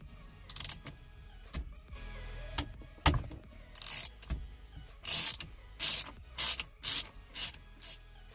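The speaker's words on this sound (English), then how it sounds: "I'm just going to be using the security bit along with an extension and my ratchet to remove this." A ratchet with an extension and security bit backs a fastener out of an Infiniti G20 steering wheel, giving short bursts of quick clicking separated by pauses and a few solid knocks, close and fairly quiet.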